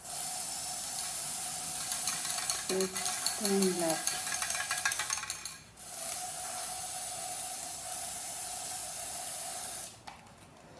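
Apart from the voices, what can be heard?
spray paint can spraying a screw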